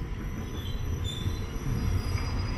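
A delayed train on the Sam Sen to Hua Lamphong line in Bangkok rumbles along the rails from inside the carriage, a steady loud roar with faint wheel squeal and no talking.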